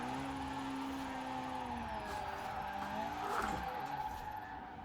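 Race car in Forza Horizon 4 sliding on a wet road, engine droning with rising and falling tyre squeal and skid noise, steady and moderately loud without talk.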